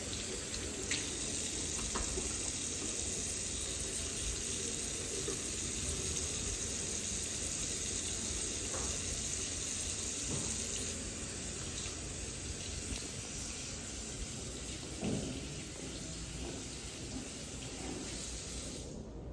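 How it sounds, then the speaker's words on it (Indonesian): Tap water running steadily into a sink for handwashing during a clinical procedure demonstration, a continuous even hiss and splash heard close and alone throughout. "Memastikan air mengalir."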